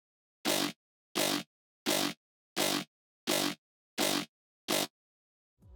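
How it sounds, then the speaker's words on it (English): Seven short, evenly spaced blasts of a gritty, sound-designed dubstep growl synth hit hard and loud, separated by silence, with a faint noise at the very end. "you need some dubstep growls."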